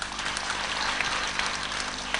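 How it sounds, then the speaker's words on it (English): An audience applauding at a convent convention celebration, dense steady clapping from many hands heard close and fairly loud throughout, with no voices over it. "Please clap for them."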